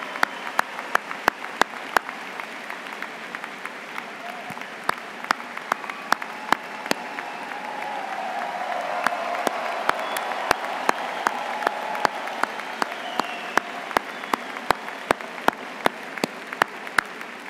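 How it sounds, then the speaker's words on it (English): A university commencement crowd applauds the graduating class at length, with broad sustained clapping that swells in the middle and sharp, close individual claps standing out throughout. "Please stand so we can applaud your achievement."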